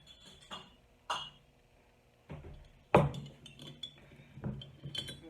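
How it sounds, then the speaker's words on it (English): Washed glass canning jars lifted from a hot oven clink and knock against each other and the metal rack in a few sharp, close taps, with quieter rattles between them and no speech. "I have my jars washed, they're in the oven. And we're going to pull out a couple jars."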